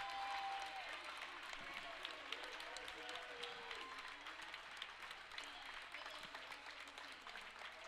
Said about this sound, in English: The entire crowd is giving him a standing ovation.